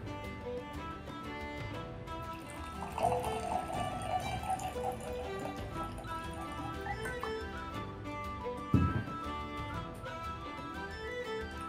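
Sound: pouring Jameson Irish whiskey into a glass

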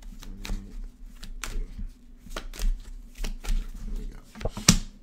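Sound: shuffling cards

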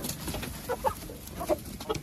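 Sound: chickens clucking

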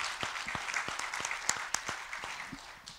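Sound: congregation applause

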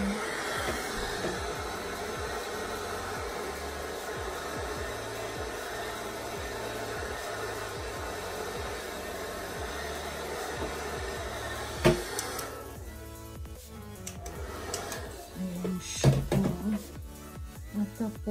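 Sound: hair dryer blowing damp hair

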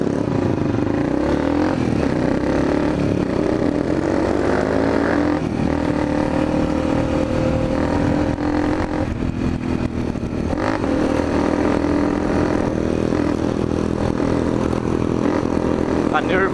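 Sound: motorcycle engine running at top speed

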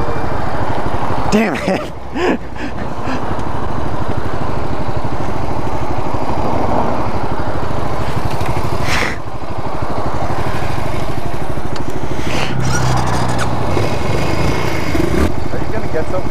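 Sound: motorcycle engine running

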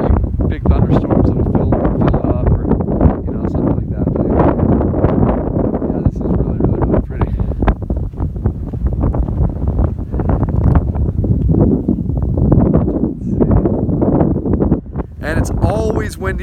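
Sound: strong wind

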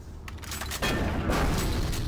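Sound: explosions in the video game Doom 3

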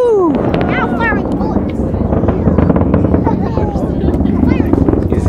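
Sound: Falcon 9 rocket launching from Vandenberg

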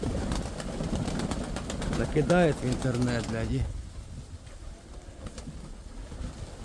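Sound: pigeons cooing at a dovecote

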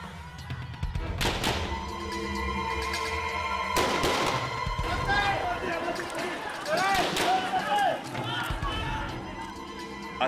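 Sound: successive gunfire, documentary

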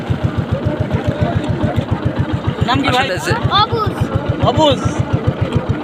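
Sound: engine of a large boat being driven

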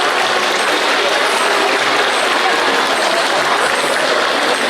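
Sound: audience applause for grandparents at school event

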